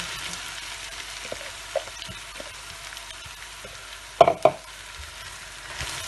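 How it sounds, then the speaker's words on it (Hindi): Chopped zucchini goes into a pan of frying ginger and garlic, bringing a soft sizzle with a couple of sharp clattering stirs midway, close and without talk. "देखिए यहाँ पर अदरक लहसुन अच्छा भुन गया है, अब हम इसके अंदर डाल देंगे तुरई।"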